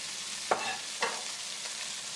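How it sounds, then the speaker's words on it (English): A spoon scrapes twice through garlic, thyme and scotch bonnet pepper sizzling in a pot, two short stirring strokes over a steady soft frying hiss. "Give it a stir to move everything around, because we want to soften up that garlic"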